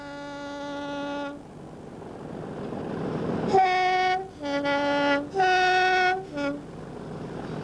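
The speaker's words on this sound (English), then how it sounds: "this pair of 37s head the timber train to D Marsh" A pair of Class 37 diesel locomotives hauls a timber train past a signal box, giving long loud two-tone horn blasts over a steady rumbling engine drone, with several sounding bursts in quick succession.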